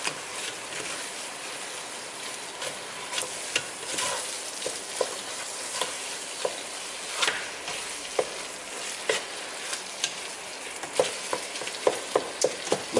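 Food sizzles and fries in a pan for tacos with cream cheese mixed in, a constant crackling hiss broken by scattered pops and utensil scrapes that grow more frequent toward the end.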